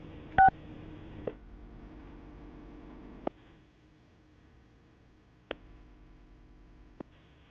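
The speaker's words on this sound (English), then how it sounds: "we're going to call her right now, see if we can get her on the phone" A phone number is dialed on a telephone, starting with a brief bright tone and followed by a few sparse clicks spaced over several quiet seconds.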